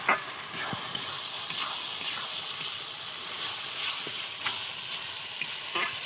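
Chopped tomato and cashew paste sizzling and frying in a pan for a red chicken curry, with a steady hiss and occasional scraping stirs of a spatula throughout.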